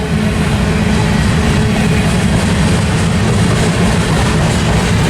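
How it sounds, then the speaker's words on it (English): An empty freight train rolls through Tehachapi Pass, a loud, steady, close rumble of wheels and heavy engines that holds unbroken throughout. "The train we're filming at the moment here is empty."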